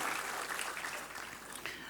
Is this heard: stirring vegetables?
no